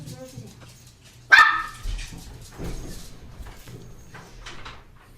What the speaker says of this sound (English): It was synchronistic that the dog would start barking.